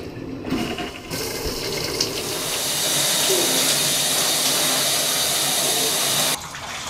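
Cold shower water runs in a steady, loud rushing hiss after a brief start, continuing unbroken for several seconds before cutting off near the end.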